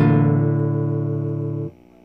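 A single guitar chord for a song is strummed once and left to ring loudly, holding steady for about a second and a half before being damped to near silence.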